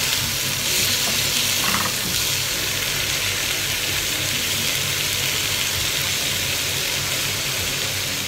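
Tomatoes sizzle steadily in a hot pan, a continuous close frying hiss with soft crackles and a brief stir near the start, no voices over it.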